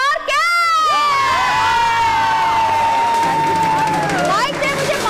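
On a Hindi TV game show set, a studio audience cheers and shouts loudly, with children's high excited whoops and a long sustained shriek running over dense crowd noise throughout.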